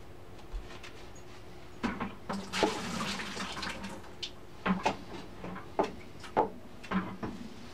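Water from a pet's water bowl, soiled with a little poop, being dumped into a bucket, heard as several separate splashing pours and clunks at quiet, close range with no talking.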